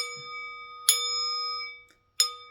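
Crystal singing bowls struck, giving bright sustained ringing tones; one chime rings on and fades, then two more sharp strikes follow, clear and close in a quiet room.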